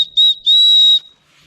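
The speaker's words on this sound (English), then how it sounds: "Let's hear this whistle and see what it sounds like." A small survival kit whistle is blown in two loud, piercing blasts, a brief one followed by a longer sustained one, both close and alone, before fading to quiet.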